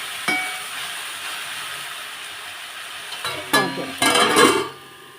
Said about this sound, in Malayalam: ചെറുതായിട്ട് അരിഞ്ഞ് സവള ഇട്ട് കൊടുക്കാം. നന്നായി ഇളക്കി വേവിപ്പിച്ച്